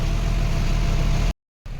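Stalled traffic in a packed jam on the road near Dankuni toll plaza: a close, steady rumble of idling engines that cuts out briefly to silence and then resumes.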